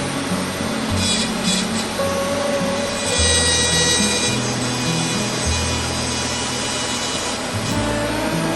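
Hand carving tool scraping and shaving wood to flatten the underside of a primary feather on a black-capped chickadee carving, a steady close rasping rub that runs continuously throughout.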